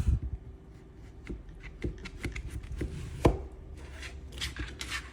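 A knife taps through zucchini on a cutting board in a series of uneven, close, crisp chops and scrapes, fairly quiet, with no voices.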